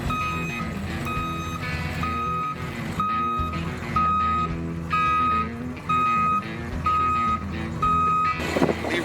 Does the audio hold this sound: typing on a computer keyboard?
no